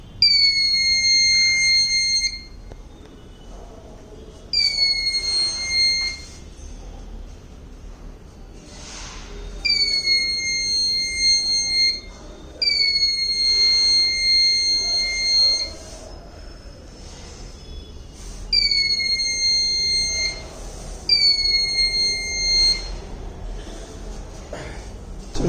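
Arduino UNO smart blind stick with an ultrasonic sensor, its buzzer sounding an obstacle warning: a series of shrill, high electronic beeps in bursts of about two seconds, repeating at irregular intervals over faint background noise.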